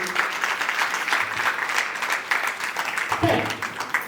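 Guests at a Dohale jevan ceremony applaud in a steady, dense burst of clapping that continues for several seconds, fairly loud and close, with voices mixed in.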